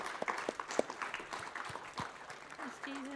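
Church congregation applauding at a Baptist service, a scattered patter of claps that sits beneath a voice speaking over it, fairly soft and distant.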